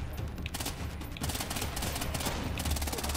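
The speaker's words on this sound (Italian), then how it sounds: "oh, quanti colpi ci sono voluti" Rapid gunfire in the stealth shooter Splinter Cell: Blacklist, bursts of automatic shots crackling loudly in quick succession with short gaps, close and harsh over low game rumble.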